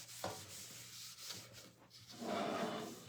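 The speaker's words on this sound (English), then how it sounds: "let me wipe this down because there is some excess dust" Soft rubbing and swishing of a cloth wiped across a wooden surface in several short strokes, ending with a sharp scrape.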